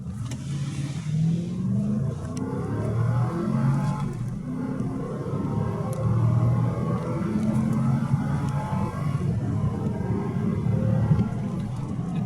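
A Toyota Land Cruiser 200 with the 4.6 V8 running on petrol while driving, a steady low engine drone and road rumble throughout with slight rises in pitch, no talk over it.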